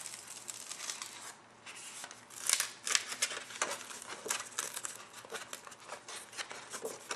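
Paper is peeled slowly off a cutting mat after a cutting machine ejects it, making faint, close crinkling and tearing rustles in uneven bursts with a short quiet gap, and no voices.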